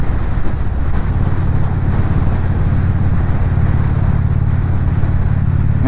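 Strong wind roars over the microphone throughout a motorcycle ride, a constant low buffeting rumble that stays heavy and unbroken for the whole stretch, with no speech.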